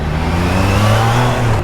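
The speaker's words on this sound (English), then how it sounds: "Hey, traffic." A car engine revs up in traffic nearby, a loud rising whir and drone that swells and then eases off.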